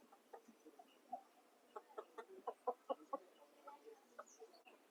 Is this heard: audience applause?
no